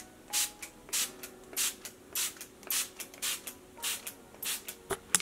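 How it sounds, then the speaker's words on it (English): Makeup Forever Mist and Fix setting spray is misted onto a face in about a dozen quick, evenly spaced pumps, each a short airy hiss, close and fairly quiet. "I'm going to set my face with my Makeup Forever Mist and Fix."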